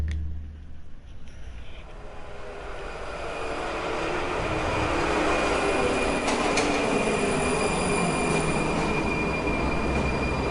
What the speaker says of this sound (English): The sound of the train screeching into the station grated on Aurora's ears.